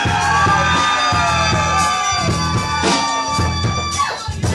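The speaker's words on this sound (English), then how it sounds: "let me hear you scream!" An audience party section at a live music all-stars show screams and yells together in loud, sustained bursts.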